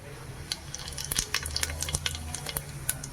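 Cumin seeds and asafoetida drop into hot oil and sizzle steadily, with crackling pops and faint spoon stirring against the pan, heard close with no talking.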